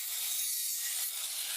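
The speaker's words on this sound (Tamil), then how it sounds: "ஒரு 18 இன்ச்சு நீளத்தை கட் பண்ணி எடுத" A PVC pipe being hand-sawn to an 18-inch length for a robotic bicycle build, heard as a close, continuous rasping stroke with no pauses or talk.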